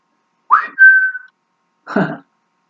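A short whistled note slides upward and holds steadily, followed by a brief breathy second attempt after a pause, close and alone.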